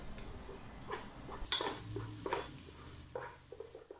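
Chicken fried rice being stirred and tossed in a hot pan, with soft scraping, light clinks of a utensil and faint sizzling, quiet and close with no voices.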